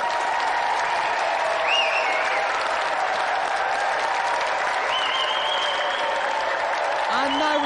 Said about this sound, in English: let's have another round of applause for tonight's competitor